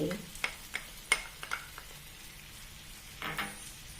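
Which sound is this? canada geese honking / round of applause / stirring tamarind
stirring tamarind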